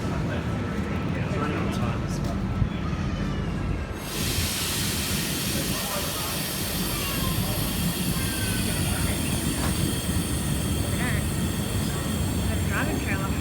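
Sydney V-set double-deck train V15 departing Parramatta station, a loud, close, continuous rumble and rolling wheel noise with hiss and faint squeals, and people talking over it.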